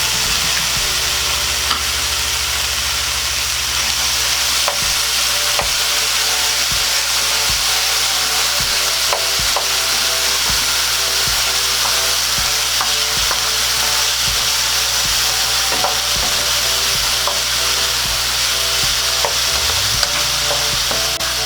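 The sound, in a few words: potatoes sautéing and being stirred in pan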